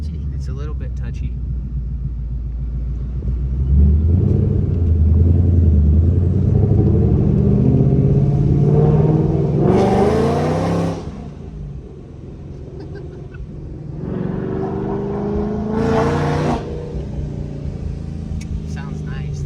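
A boosted 800-horsepower Ford Mustang rumbles deeply while driving, swelling into a loud sustained roar, then surging in two brief sharp revs, heard from inside the car with people talking over it.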